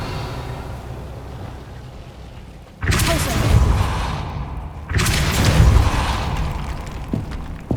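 Two heavy booming blasts of the Confringo fire spell in the Hogwarts Legacy video game, each a loud, broad rumbling burst that lingers, set over steady game background noise.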